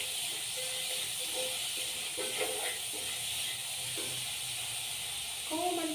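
Black cumin seeds sizzle in hot mustard oil, a steady bright hiss of frying with small crackles and clinks of a utensil, with a voice talking briefly over it.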